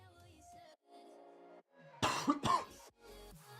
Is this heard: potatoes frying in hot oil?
no